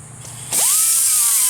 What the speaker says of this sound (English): I'm sanding the head off of this bolt.